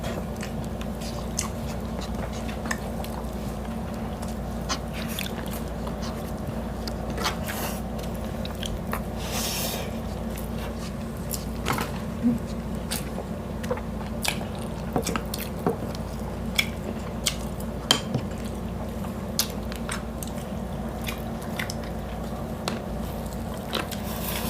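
Braised pork ribs being eaten up close, with soft wet chewing and squishy bites repeating irregularly, joined by occasional small clicks and crunches against a quiet background hum.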